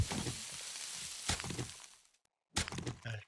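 Crackling and sizzling of a cooking fire in the game 7 Days to Die, a dense hiss with small pops that cuts out briefly into silence and then resumes.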